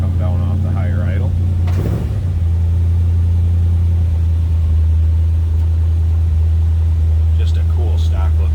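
A 1949 Chevrolet 3100 pickup engine warming up at a raised idle, a loud steady low rumble throughout, with someone talking briefly over it.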